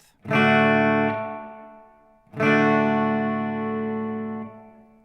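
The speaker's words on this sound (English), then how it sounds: "The next one is going to be echo, and number 1 is 1/8." Electric guitar played through an Oceans 12 dual stereo reverb pedal in echo mode with eighth-note delay, two loud sustained strummed chords, each ringing out and slowly decaying.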